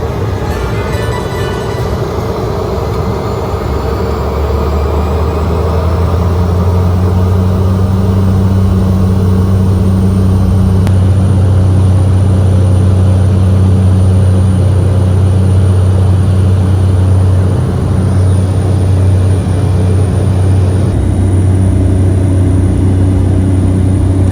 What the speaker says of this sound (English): Pretty soon we were lining up and getting off on our way to Mafia Airport.